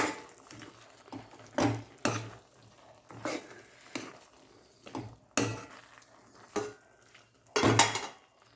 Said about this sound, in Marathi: आपण फ्राय केलेले बटाटे याला याच्यामध्ये आपण मिक्स करून घेऊ